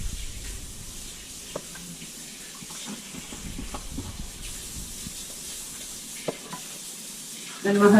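Chorizo being broken up in a hot pan, a soft continuous sizzle with scraping stir strokes and occasional light clicks of a utensil, fairly quiet and close, with no voices.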